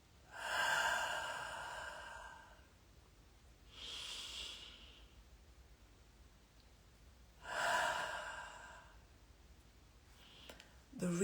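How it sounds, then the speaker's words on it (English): Slow, deep breaths taken in and released through an open mouth, three long soft exhales spaced several seconds apart, close and quiet over a faint hum. "I take a deep breath in through my nose, and then I open my mouth and I release and exhale"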